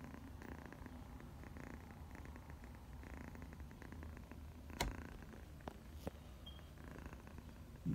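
A newly adopted pet cat purrs softly and steadily close by, a low rumbling hum with a couple of faint clicks and rustles and no talking.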